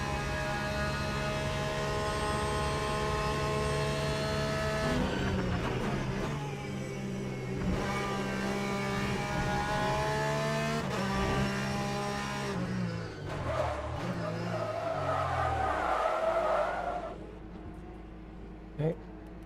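Porsche GT race car in the sim racing game Le Mans Ultimate during a GT sprint race at Portimao, with sustained engine drone shifting pitch through gear changes and revs, dropping away near the end.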